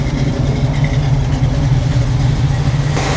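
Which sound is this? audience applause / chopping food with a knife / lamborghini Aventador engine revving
lamborghini Aventador engine revving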